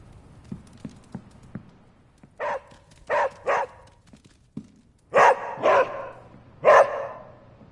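Charlie the dog barks in the video game Marvel's Midnight Suns: several loud, separate barks in an irregular rhythm, preceded by a few soft footstep-like taps, with no speech.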